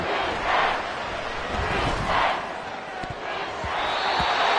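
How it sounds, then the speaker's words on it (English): Football stadium crowd roaring on third down against Washington, a broad swelling wash of noise that rises and falls in waves, with a commentator talking over it. "This crowd turning up the decibel level."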